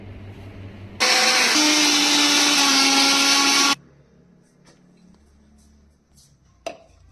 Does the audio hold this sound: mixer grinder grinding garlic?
yes